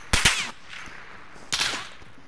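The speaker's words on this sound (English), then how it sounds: "He's getting sniped from the hills." Sniper gunfire in Call of Duty: Modern Warfare, two sharp loud shots, each with a quick echoing tail, about a second and a half apart, with no talk.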